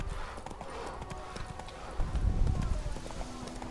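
Horse hooves clip-clop steadily in The Witcher 3, a close, continuous patter of hoofbeats on the ground that grows heavier midway, with people talking over it.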